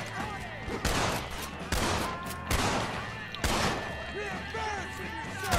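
Repeated loud gunshots ring out in the Western video game Red Dead Redemption, coming in several spaced bursts with echoing tails as a voice talks over the shooting.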